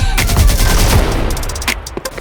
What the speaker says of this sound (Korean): 아무렇게나 쏜다.